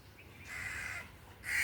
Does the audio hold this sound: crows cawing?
yes